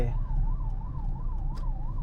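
An ambulance siren wails in a steady rising-and-falling pattern above rumbling traffic on a Chennai road, heard from inside a car.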